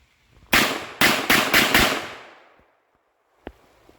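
A MAC 1014 shotgun fires five slug rounds in quick succession, loud and sharp with ringing decay, followed by a faint metallic clack after a pause.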